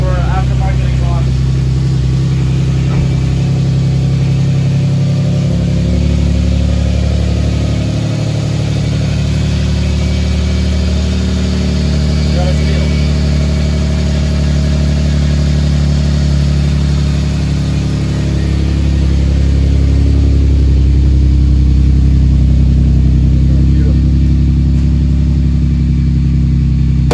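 A Nissan 370Z Nismo engine with an aftermarket exhaust idles steadily with a deep, low exhaust rumble, fairly quiet and constant throughout, swelling slightly toward the end.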